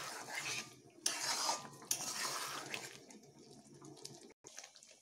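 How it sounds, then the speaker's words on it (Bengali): Chili chicken sauce thickened with cornflour being stirred in a pan, soft bubbling under repeated spatula scrapes and utensil clatter, moderately quiet, with a short silent gap near the end. "এবার আমি এর সঙ্গে এগুলোকে ভালোভাবে মিশিয়ে নিচ্ছি।"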